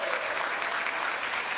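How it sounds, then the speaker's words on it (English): Council meeting audience in Hayward giving the children present a round of applause, a full, continuous burst of many hands clapping throughout. "let's give all the kids a big round of applause"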